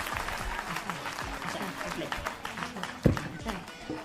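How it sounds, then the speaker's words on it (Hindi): Audience clapping at a Hindi comedy kavi sammelan, a poetry gathering, heard under a voice still talking over the crowd. The applause is moderately faint and uneven, with a sharp knock near the end. "एक बार पूरा सदन जोरदार ताली बजा कर बताइए"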